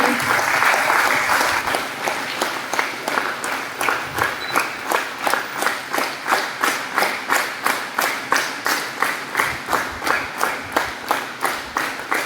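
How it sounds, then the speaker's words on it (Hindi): An audience at a book event applauds loudly, first as a dense burst, then settling into steady rhythmic clapping in unison that carries on for several seconds. "जोरदार तालियों से इस घड़ी का स्वागत कीजिए।"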